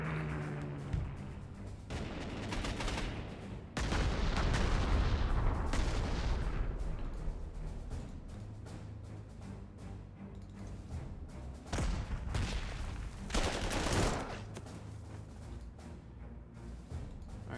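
Combat gunfire and artillery in the Panzer Corps 2 war game, a continuous rumble of shots and booms with louder bursts near 4 and 14 seconds, heard alone without speech.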